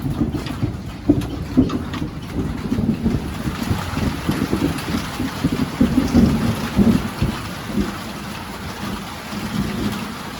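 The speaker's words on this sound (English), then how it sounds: "sit here and listen to the storm" A heavy thunderstorm rolls on with steady pouring rain, low rumbling thunder and gusty wind buffeting the microphone, loud and continuous throughout without any voices.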